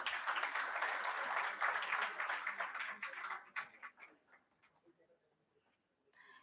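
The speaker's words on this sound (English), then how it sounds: "A big round of applause for them." Conference audience applauding in a hall, a steady wash of clapping that trails off into scattered claps and then quiet.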